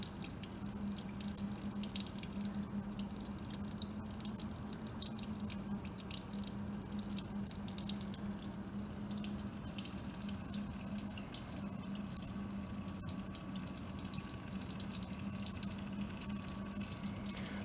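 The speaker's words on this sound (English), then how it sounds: "we can carefully squeeze down and allow the water to drip down into the flask itself" Water seeps through a filter and drips into a laboratory flask, a steady soft patter under a constant low hum, with no talk.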